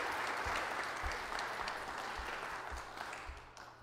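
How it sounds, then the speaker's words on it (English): A church congregation at Sunday worship applauds, a close, full wash of clapping with low thumps recurring underneath, tapering slightly toward the end. "Can we applaud?"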